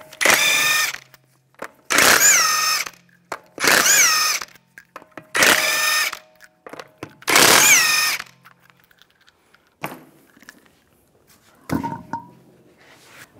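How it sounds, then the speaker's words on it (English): A power tool spinning off lug nuts with a 19mm socket on a 2011-2015 Chevrolet Cruze, five loud close bursts of whining, rattling impact about a second each with short gaps, then quieter clicks and clanks of parts handled. "use a 19mm socket, take the lug nuts off"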